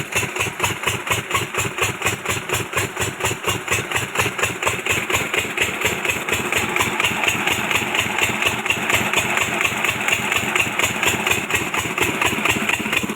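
A farm engine drives a water pump system fed through a 3-inch line, chugging in a steady, fast, even pulse at close range that stays loud and unbroken throughout, with no talking.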